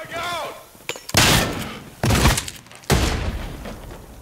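A frag grenade blasts in the first-person shooter game Trepang 2, three heavy booming explosions with rumbling tails following a brief shouted voice, loud and close amid combat noise.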